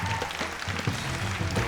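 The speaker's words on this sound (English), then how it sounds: "please give an enthusiastic round of applause for Reza Aslan" A studio audience applauds warmly as the host of a literary talk show walks on, steady dense clapping under some voices, fairly loud throughout the short stretch.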